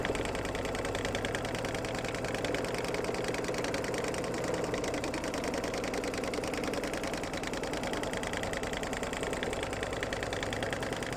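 Embroidery machine stitching an in-the-hoop pumpkin bag, tacking it down on both sides: a steady, loud, continuous mechanical whirring hum with rapid needle rhythm throughout, no talking.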